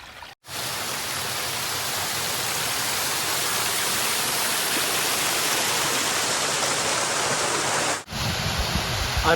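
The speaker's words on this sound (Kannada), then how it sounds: "ಇಲ್ಲಿಗೆ ಅರೆಂದೂರು ಹೊಳೆಯಿಂದ ಡೈರೆಕ್ಟಾಗಿ ನೀರನ್ನ ಫುಲ್ ಮಾಡಿ ಇದರಿಂದ ಬರುತ್ತೆ" River water from the Arendur stream pours steadily into a supply channel, a loud, continuous rushing roar heard alone that cuts off abruptly near the end.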